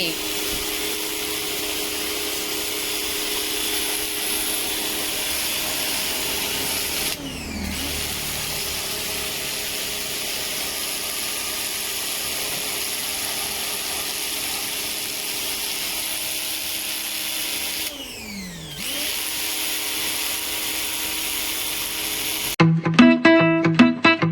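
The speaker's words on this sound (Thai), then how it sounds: "ก็มาฉีดล้างความสะอาดแผงแอร์หน้ารถให้" A pressure washer sprays the front AC condenser of a Mercedes G-Wagon, a steady loud hiss and drone with two brief sweeping dips, then closing on harsher rattling bursts.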